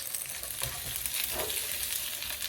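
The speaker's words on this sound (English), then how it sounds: "I'm frying the garlic, onion, and those dried chiles that we have here" Steady, close sizzling of garlic, onion and dried chiles frying in hot oil, a continuous crackling hiss with occasional stirring scrapes.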